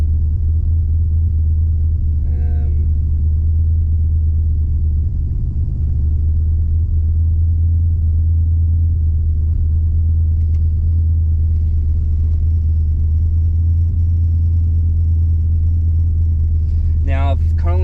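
A turbocharged V6 in a Holden VN idles steadily while warming up, a loud, low, continuous rumble close by with a voice talking over it at moments.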